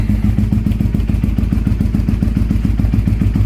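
A 2002 Suzuki SV650S motorcycle engine idles steadily up close in a cold garage, its low, even chugging pulses loud and regular with a faint rattle on top.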